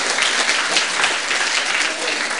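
Enthusiastic audience applause during a church sermon, a dense, continuous wash of many hands clapping at steady loudness for a couple of seconds.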